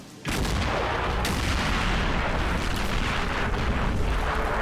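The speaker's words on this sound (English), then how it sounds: "Artillery still pounding the absolute crap out of the blues" Heavy artillery barrage in the toy soldier war game Army Men of War, a sudden loud boom followed by a continuous dense rumble of explosions and blasts.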